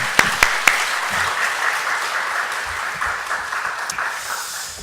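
Church congregation applauding in encouragement during an afternoon service, even clapping from many people with a few sharp claps standing out at the start.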